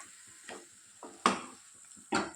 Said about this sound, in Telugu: కొత్తిమీరను కూడా యాడ్ చేసుకొని బాగా కలుపుకోవాలండి